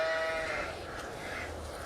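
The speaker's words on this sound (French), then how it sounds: "dans les champs près de Bethléem, des bergers gardaient leurs moutons" Sheep bleat in a field near Bethlehem, a clear nearby call that fades into a quieter second bleat over a soft outdoor background.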